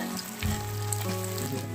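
Chinese-style egg cutlet being lowered into hot oil in a pan, setting off a close, steady sizzle and crackle with a faint low hum underneath and no talking.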